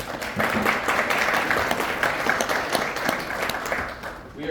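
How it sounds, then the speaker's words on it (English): An audience at a launch event applauds, with dense clapping holding steady throughout, close and full, with no speech over it. "so let's please give them all a round of applause."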